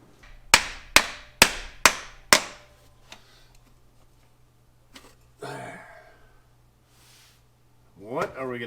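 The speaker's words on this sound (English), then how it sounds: "Let me get a hammer." A hammer strikes a part on a 1959 Plymouth Suburban Custom station wagon, parked for 52 years, that has a flathead engine: five loud, close blows in a quick even rhythm, a few fainter taps, then people talking.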